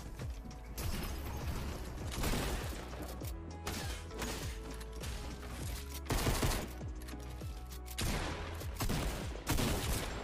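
Rapid bursts of video game gunfire crackle loud and close, dense volleys with short gaps and heavy impacts throughout, with no talking.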